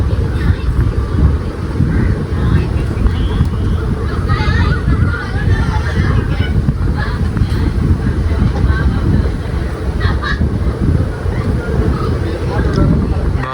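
Kochuveli–Nagercoil passenger train running, heard from on board as a loud continuous rumble and clatter of wheels on rails, with someone talking over the din throughout.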